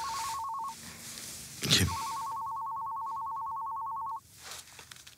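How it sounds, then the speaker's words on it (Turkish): Inside a home, a telephone rings loudly and close with a steady electronic tone. It breaks off briefly while a short rustle or knock is heard, then resumes before stopping, and someone briefly asks a one-word question. "Telefon çalıyor."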